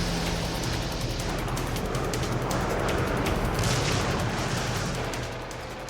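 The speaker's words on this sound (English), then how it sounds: "for 75 days the island is pummeled with a massive bombardment" Massive wartime bombardment of a Pacific island, a dense continuous barrage of gunfire and explosions rumbling without pause, loud throughout and easing slightly at the end.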